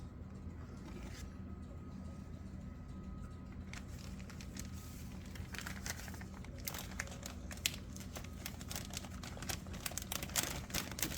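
A plastic bag crinkles and rustles as parts from a Fujimi Ferrari 355 GTS model kit are put back inside. The crackles are close and irregular and grow busier toward the end, over a low background hum.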